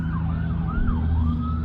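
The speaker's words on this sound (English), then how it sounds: "There's always some kind of cop or ambulance coming through here." An emergency siren from a police car or ambulance wails through an afternoon street, its pitch sweeping up and down in repeated rising and falling cycles over a low engine rumble, fairly loud and close.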